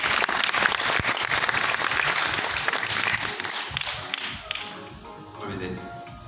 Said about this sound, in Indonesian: Tepuk tangan dulu untuk modelnya.